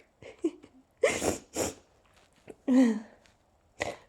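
A person sneezes repeatedly in a quiet room, with several sharp bursts in a row. One sneeze has a louder voiced cry, and softer breaths and small noises fill the gaps.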